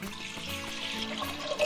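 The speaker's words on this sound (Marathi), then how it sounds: "पातेल्यात मेजर केलेलं पाणी हे असंच छान जाड बुडाच्या पातेल्यामध्ये घालायचं." Measured water pours steadily into a thick-bottomed pot, making a short, even rushing splash at moderate volume.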